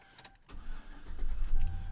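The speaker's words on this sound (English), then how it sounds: "But starts right up." A pickup truck engine, probably around 2005 with high mileage, cranks briefly and catches, settling into a steady rumbling idle that grows louder toward the end, heard close up with no talking.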